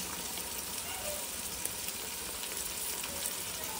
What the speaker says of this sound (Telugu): ఒక స్పూన్ అల్లం వెల్లుల్లి పేస్ట్ వేసుకోవాలి